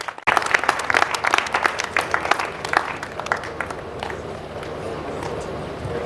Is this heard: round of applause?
yes